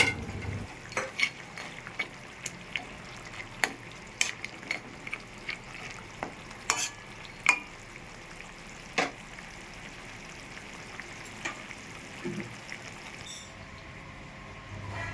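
A previously fried fish head is stirred into greens cooking in a pan for a fish-head saag ghonto, giving a faint, steady sizzle broken by scattered sharp clicks and scrapes of the spatula.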